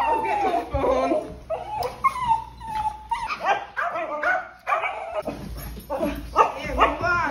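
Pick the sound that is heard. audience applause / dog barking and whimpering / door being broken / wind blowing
dog barking and whimpering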